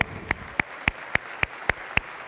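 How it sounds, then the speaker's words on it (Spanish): A church congregation applauds, though only a single person's sharp claps come through, about nine evenly spaced hand claps at a steady rhythm, fairly close and alone. "Dele un aplauso al Señor."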